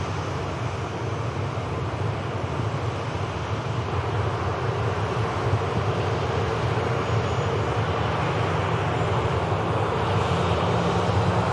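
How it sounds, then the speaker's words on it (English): An airliner arriving from Oslo at Manchester Airport, a steady loud broadband engine roar holding throughout with wind-like rush, no talk. "This aircraft went in from Oslo."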